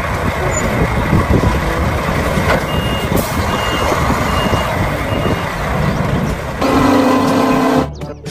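A concrete mixer truck, likely a toy, sounds loud reversing beeps in a steady repeating rhythm over dense mechanical rumble and noise, and a harsher tone rises near the end before cutting off.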